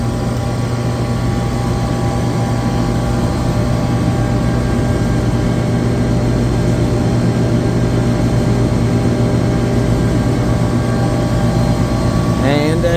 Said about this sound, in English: this compressor is insanely well balanced